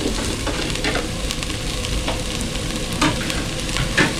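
Garlic, onion and ginger sauté in a casserole for batchoy, giving a loud, dense sizzle with scattered clicks of stirring close by.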